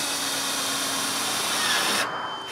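A power drill drives screws into the timber of a wooden carport for firewood, a steady close whine lasting about two seconds, then cutting off to quieter room sound.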